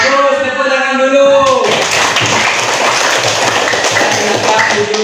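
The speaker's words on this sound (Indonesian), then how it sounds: "Bagus, tepuk tangan dulu." Children clap together in a classroom, a dense, steady patter of many small hands that starts after a brief tonal sound and continues loudly to the end.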